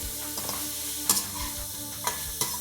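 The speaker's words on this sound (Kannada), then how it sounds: "ಈಗ 4ರಿಂದ 5 ಈರುಳ್ಳಿನ ಸಣ್ಣಗೆ ಹೆಚ್ಕೊಂಡಿರೋದನ್ನು ಹಾಕಿ ಫ್ರೈ ಮಾಡೋಣ" Finely chopped onions frying in a pan for paneer masala, with a steady soft sizzle and a few sharp clinks of a spoon stirring, over faint background music.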